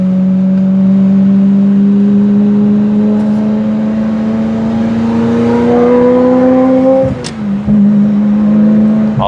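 A 1997 Ferrari F355 Spider engine pulls steadily under load while driving, its pitch climbing smoothly, then a quick shift dip before settling back to a sustained, loud, close exhaust note.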